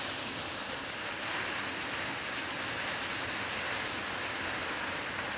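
Steady, dense rain pours down at night in a village without a break, a constant broadband hiss with no voices.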